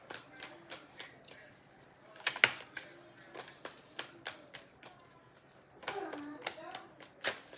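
Tarot cards are shuffled close by in soft, quick clicking and riffling bursts, with a short flurry of cards slapping together near the end.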